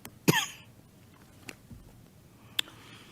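One person coughs sharply, then gives two smaller coughs or throat clears, spaced apart in a quiet meeting room during a hybrid school committee session.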